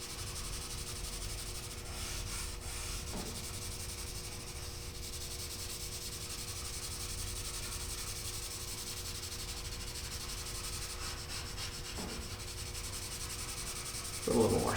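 Pencil shading on paper during drawing makes a continuous soft scratchy rubbing, close and faint, with small strokes now and then and a slight bump at the end.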